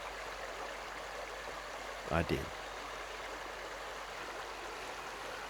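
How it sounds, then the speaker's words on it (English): A mountain creek runs as a steady broadband rush of flowing water that stays even throughout. Someone speaks briefly over it partway through. "the sound of the creek"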